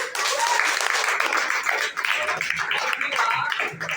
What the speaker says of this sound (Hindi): ताली बजाओ इस बात पे।